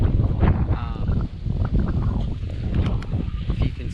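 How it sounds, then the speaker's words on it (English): Heavy wind buffets a microphone in a tasseling corn field, making loud, gusty low rumbles and rustling throughout, with a voice speaking beneath the noise. "Sorry about the wind noise."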